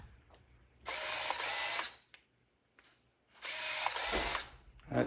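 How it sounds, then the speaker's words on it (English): The film advance motor of a Nikon F-401x camera whirs in two short mechanical bursts, each about a second long, with quiet gaps and small clicks between them. "This window has this dial that spins to show you that the shutter advance mechanism is working."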